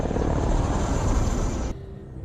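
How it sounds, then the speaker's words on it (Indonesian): Helicopter in flight from the action film London Has Fallen, a loud close rotor thrum and engine roar that cuts abruptly to a quieter low rumble near the end. "setelah dikonfirmasi bahwa Benning dan presiden berhasil terbang menggunakan helikopter"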